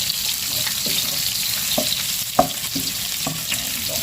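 Onions, garlic and ginger sautéing in a pan, a continuous sizzle broken by repeated scraping stir strokes and one sharp clack, no voices heard.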